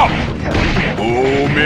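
Booming Chop, a cane attack from the Sly Cooper video game, lands as a loud, dense crash-like impact with a whooshing sweep, bursting close and full over a short moment.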